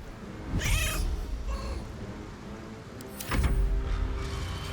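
Two loud, close meows from cats in the video game Baldur's Gate 3, spaced a few seconds apart over a constant game ambience, with no talking.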